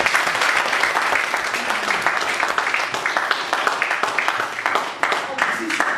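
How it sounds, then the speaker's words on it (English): Audience applause at a Toastmasters club meeting after a general evaluation, a dense, steady roomful of clapping with scattered louder individual claps, sustained throughout with voices faintly mixed in. "Big round of applause."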